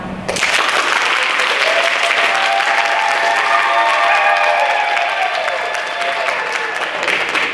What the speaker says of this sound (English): I would like you to applaud now.